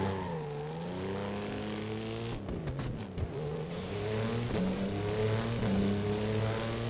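The Dust Storm, a mid-range dirt-style car in Burnout Paradise, its engine revving and shifting through gears as it drives, pitch rising and dropping with a short scrape of noise midway, loud and close with no talk.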